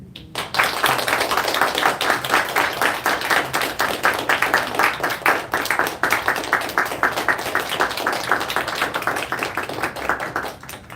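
Audience applause for Mr. C, a man honored as brave at a public testimony event, with dense steady clapping sustained for about ten seconds and tapering near the end, no talk over it.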